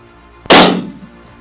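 A single loud, close hunting-rifle shot cracks out in open country, with a sharp attack and a rumbling tail that fades over about half a second.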